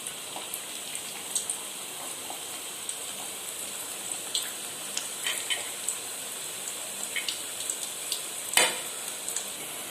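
Thattai rice crackers deep-fry in oil on a low flame, a soft continuous bubbling sizzle with scattered small pops and one sharper crackle, no voices.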